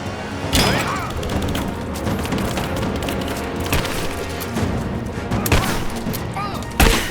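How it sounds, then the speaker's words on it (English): Gunfire in a Tomb Raider game firefight, with repeated sharp shots and heavy impacts spread through a loud, busy mix, strongest bangs near the start and end, while voices speak over the action. "Keep me covering fire!"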